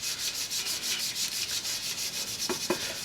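A Scotch-Brite pad scrubs an engine part during an engine assembly, giving rapid, rhythmic back-and-forth rasping strokes, close and steady, with a couple of knocks near the end.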